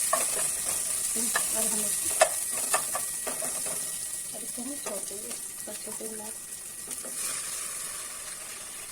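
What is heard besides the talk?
tempering sizzling in pan while making kadhi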